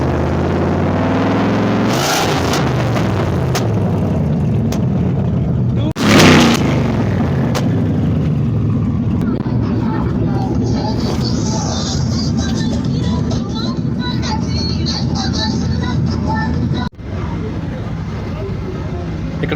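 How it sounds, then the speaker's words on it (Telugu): A car engine with its silencer removed and a large turbo fitted, a loud, rough idle and throaty rumble with a sudden bang or rev burst, while someone talks over it. "సైలెన్సర్ తీసేసి టర్బో చూడు అసలు ఎంత ఉందో, చాలా పెద్ద టర్బో పెట్టాడు. సౌండ్ అయితే చాలా భయంకరంగా వస్తుంది"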